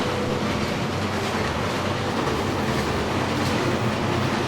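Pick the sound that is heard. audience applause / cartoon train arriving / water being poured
cartoon train arriving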